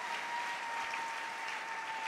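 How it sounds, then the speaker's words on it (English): A church congregation claps steadily in thanksgiving during a sermon, a dense, even wash of many hands sustained throughout at moderate level with no pauses. "Let's clap for God."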